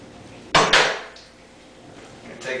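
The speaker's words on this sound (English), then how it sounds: "Very carefully take your knife, hit it into the seed and twist it out" A kitchen knife strikes an avocado seed with a sharp knock and then a second scraping impact as it twists free, two quick close sounds standing alone in a quiet room.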